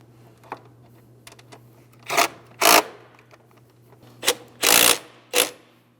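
Ratchet snugging up a starter mounting bolt on a 2003-2008 Toyota Matrix 1.8L, heard as a few separate short bursts of close, loud ratcheting over a low steady hum, with no talking.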